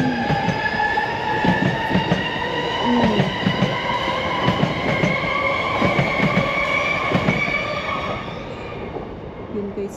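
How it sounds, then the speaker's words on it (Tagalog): A train passing close by in New Zealand, a loud continuous rumble with rhythmic wheel clatter and high metallic squealing tones that fade toward the end. "Yun guys, dumaan ang train."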